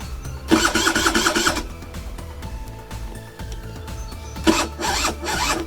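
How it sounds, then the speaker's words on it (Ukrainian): Scooter engine being started: two separate loud cranking bursts, each about a second long, with a lower mechanical rumble and small knocks in between. "Заводиться так же само він хорошо, так як положено"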